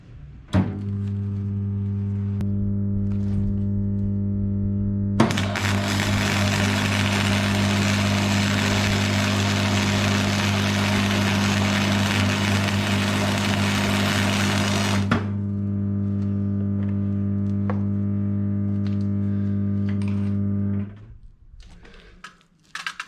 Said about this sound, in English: Righto, backyard welding, here we go.